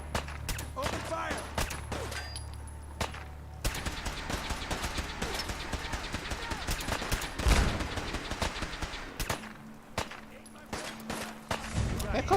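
Gunfire in Fallout 4, a rapid, continuous barrage of close shots crackling steadily throughout, with heavier booms mixed in.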